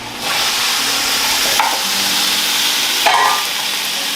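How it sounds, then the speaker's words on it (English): Tomatoes hit a hot cast iron skillet while making pizza, setting off a loud, steady sizzle and hiss that runs nearly throughout, with two brief sharper bursts partway through. "So I'm going to drop the tomatoes in quick."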